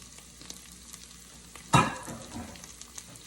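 Onion hits hot oil in a pan for a sardine dish, setting off a sudden loud sizzle that settles into quieter crackling frying, with faint clicks around it.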